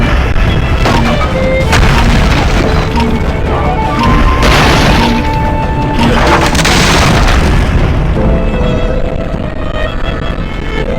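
Ceiling collapsing in the Ben 10 Ultimate Alien video game, a loud continuous rumble of crashing debris and booming impacts with game music layered over it.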